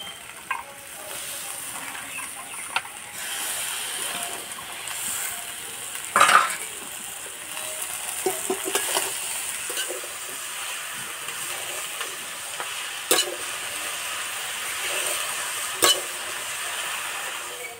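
Spinach tipped into a pan of Bengali labra mixed vegetable curry with softened brinjal, then stirred, giving a steady close sizzle with scraping spoon strokes and a few sharper clatters, no talking.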